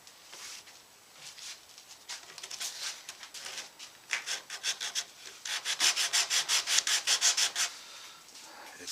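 A little sander fitting a guitar neck pocket in wood: quiet, close rubbing strokes, sparse and irregular at first, then settling into a quicker, steady back-and-forth rhythm before fading out.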